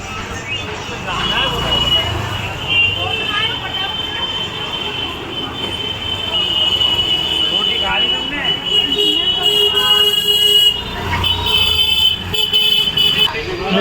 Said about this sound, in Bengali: টোটো চলছে, অটো চলছে।